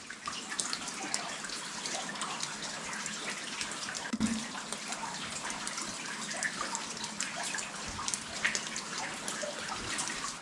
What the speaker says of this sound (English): It's like a river in here.